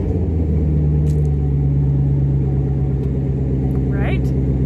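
A 1964 Nova engine runs on a cold start with a steady, low, rumbling idle throughout, a faint chirp near the end and voices in the background.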